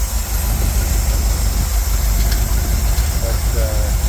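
A Bombardier car engine idles after a fresh set of spark plugs, giving a steady low rumble that runs without a break through the whole stretch.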